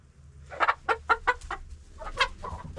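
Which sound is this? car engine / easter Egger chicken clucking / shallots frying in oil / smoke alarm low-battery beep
easter Egger chicken clucking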